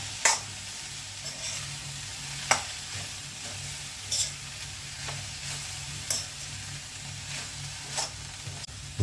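Cabbage leaf thoran is stirred in a pan, with a spoon scraping or tapping about every one to two seconds over a soft, continuous frying sizzle.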